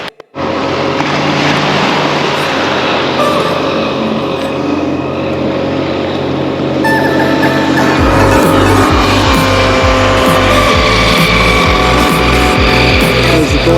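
Vehicle driving through deep, rutted sand tracks in the Doñana nature reserve, Spain, a loud continuous engine roar with a rising, straining tone that settles into a pulsing, labouring drone.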